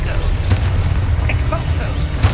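A Confringo fire spell blasts in Hogwarts Legacy, a steady low booming rumble with a couple of sharp bursts, one early and one at the very end, and brief voice-like sounds partway through.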